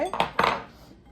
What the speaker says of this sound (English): Scrape off any remains on our blender here.